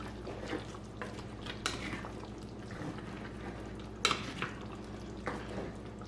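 A pot of spicy black chicken curry with coconut is stirred, the spoon scraping and knocking softly against the pot over a low simmer, quiet and close.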